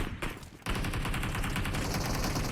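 Rapid automatic gunfire in the PUBG Mobile battle royale game, a dense sustained burst of shots starting abruptly after a brief quieter moment and continuing loudly to the end.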